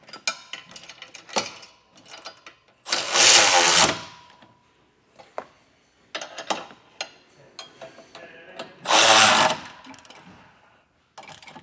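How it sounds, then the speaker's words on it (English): Bolts on a Roadmaster Direct-Connect base plate kit for a 2024 Jeep Grand Cherokee are tightened with a 3/4 inch socket and wrench, giving close bursts of rapid ratcheting and two longer, louder runs separated by short pauses. "Now we'll tighten all of our bolts down."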